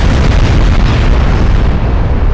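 Battleship gunfire in Ultimate Admiral Dreadnoughts, a naval video game battle in a strait, a loud, continuous roar of heavy booming salvos and explosions filling the whole moment without pause.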